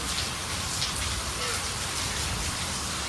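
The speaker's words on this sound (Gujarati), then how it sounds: "કુંડલામાં પાછો વરસાદ શરૂ થઈ ગયો" Steady rain falling in Kundla, a constant dense hiss of drops on surfaces with no breaks, moderately loud and close.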